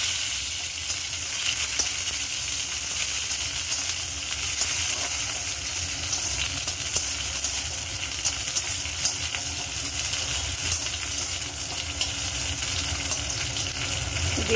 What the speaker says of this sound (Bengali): ক্যাপসিকামগুলো ভেজে নেব।